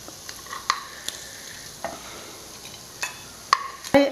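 Sardines fry in a pan with pepper and onion over low heat, a soft steady sizzle broken by a few sharp clinks and scrapes of stirring, close up and with no talking.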